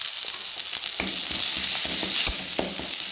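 Garlic paste sizzling and frying in a pan with browned onions, a steady hiss with occasional stirring scrapes and knocks, close and fairly loud with no talking.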